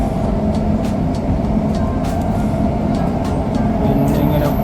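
Inside a moving Dubai Metro train, a steady low rumble and rolling drone fills the carriage, with faint intermittent clicks and rattles over the constant noise.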